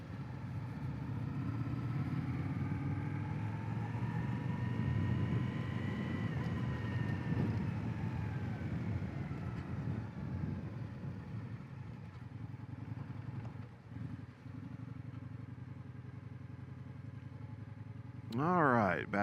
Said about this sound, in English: I'm surprised at how much smoother this engine is